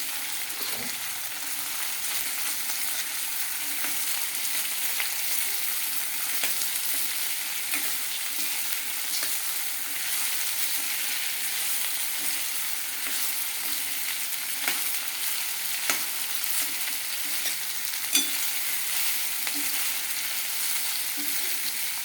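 Cut okra and half-cooked potatoes fry in ghee, a steady, moderate sizzle with occasional scraping and clinking from stirring, continuous and close.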